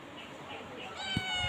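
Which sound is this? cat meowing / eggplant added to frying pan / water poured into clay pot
cat meowing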